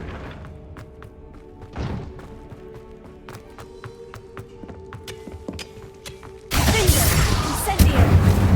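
Incendio fire spell cast in Hogwarts Legacy, preceded by scattered footstep taps and thuds, then a sudden loud whooshing, roaring burst of flame that continues to the end.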